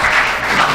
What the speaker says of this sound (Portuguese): E bata palmas